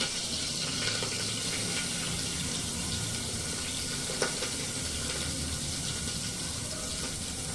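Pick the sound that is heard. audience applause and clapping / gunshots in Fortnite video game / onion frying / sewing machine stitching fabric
onion frying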